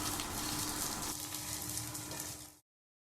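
White rice stir-frying in a pan alongside fried fish belly, giving a steady close sizzle that runs unbroken for about two and a half seconds before cutting off.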